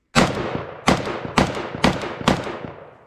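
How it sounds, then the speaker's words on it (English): A Polish FB-Radom Beryl M1-223S, a short 5.56 AK-pattern pistol, fires five sharp, loud, booming shots at a steady pace of about two per second, with heavy muzzle blast and a brief echoing tail after each. "I would end the shooting day with one more mag through the mini Beryl"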